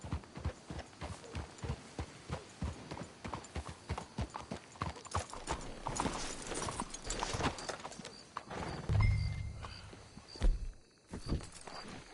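Horse hooves clop in a steady walking rhythm in the video game Red Dead Redemption 2, close and clear at first, then fade under low rumbles and thuds.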